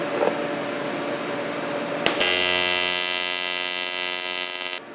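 An aluminium welder on a Moto Guzzi V9 custom build strikes an arc after a quiet hum, then buzzes with a steady, bright, loud drone for about three seconds before cutting off.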